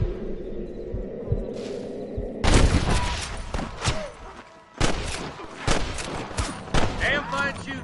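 Rapid volleys of Western-style gunfire from the video game Red Dead Redemption crackle as a loud, dense fusillade after a quieter opening, with sharp overlapping shots and brief voices mixed into the battle.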